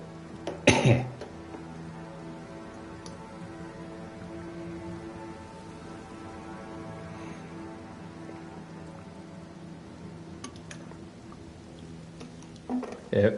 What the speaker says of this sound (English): that's probably the reason why I'm coughing a bit.